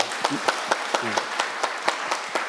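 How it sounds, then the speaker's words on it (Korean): An audience at a forum session applauds in a short burst of fairly close, evenly paced claps that dominate the clip, with a brief murmur of voice near the start. "그 감사의 그 박수를 한 번 더 보내주십시오"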